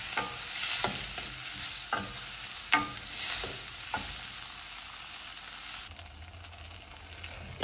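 Onions and tomatoes fry in a pan for an arbi pulusu, a steady close sizzle with several sharp stirring scrapes early on, then the frying softens and quiets toward the end.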